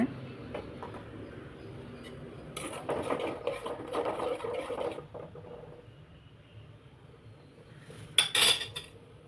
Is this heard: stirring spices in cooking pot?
yes